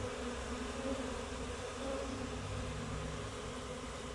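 Steady, low buzzing of many bees fills the air, a soft continuous hum with no talking.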